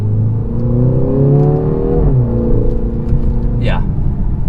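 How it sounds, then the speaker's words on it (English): A BMW X2 M35i's 302 hp four-cylinder engine revs up and settles back, loud and close, its pitch sweeping upward, with a brief high whine near the end. "this is one of the best sounding 4-cylinders I think I've driven"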